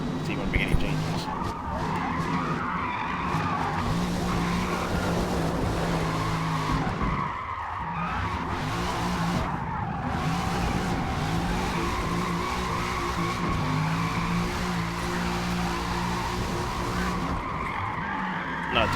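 Car drifting in Forza Motorsport, with long continuous tire squeal and skidding over a steady engine roar throughout, briefly dipping midway, while a person talks over it.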